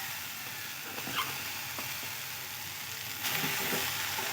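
Cabbage hits a hot wok with a soft, steady sizzle, a few small clatters of handling breaking through and the frying swelling slightly louder toward the end.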